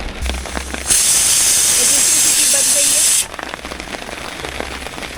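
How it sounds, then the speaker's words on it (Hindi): An electric boiling machine inside a campervan kitchen lets out a loud, steady hiss of steam for roughly two seconds, rising sharply and cutting off just as abruptly, with quieter room noise before and after. "मेरा एक मशीन है बॉईल करने के लिए जो रूम में मैंने रख दिया था"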